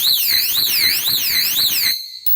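A solar-powered outdoor animal repellent meant to scare off large animals sounds a loud, close electronic siren that sweeps up and down in a steady repeating wail, then cuts off abruptly, followed by a brief click.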